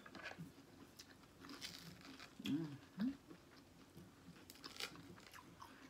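Shrimp salad being chewed in an eating show, with two distinct close crunchy bites near the middle over a quiet background of soft mouth noises.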